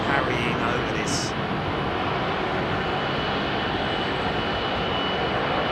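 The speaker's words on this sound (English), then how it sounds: "the engine sounds, or the sounds of the airport are just fantastic because the wind is very light" Aircraft engines at London Heathrow Airport on a light-wind day, a steady, broad roar that continues throughout the clip at a moderate distance.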